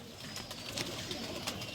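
A pigeon coos on a rooftop in Lahore, soft repeated low coos at moderate distance over faint outdoor background, with no voices.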